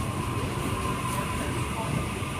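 A Sydney Trains Waratah set, B26 and A3, the first Waratah to enter service, passing at Redfern on an Olympic Park to Central run; a continuous close rumble and rushing roar holds steady throughout.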